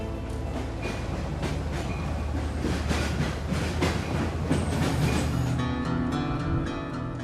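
The El Chepe passenger train runs along the Copper Canyon railway in Mexico, a continuous rolling rumble with rhythmic wheel clatter and metallic rattling, steady and fairly close, with no voices.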